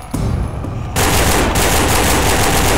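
Gunfire in the zombie shooter No More Room in Hell: loud, rapid automatic fire that starts within the first moment and grows denser and more continuous about a second in, with no talking.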